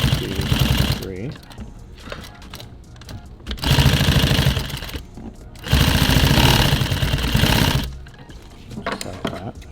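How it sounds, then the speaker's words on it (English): A sewing machine stitches nylon tactical gear in bursts of loud, close mechanical whirring, with quieter pauses between runs and some background sound between stitching passes. "So if I sew across, I don't have to cut 2 pieces of thread on each side."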